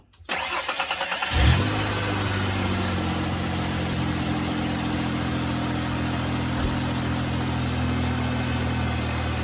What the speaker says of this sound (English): start up the engine and let it warm up to normal operating temperature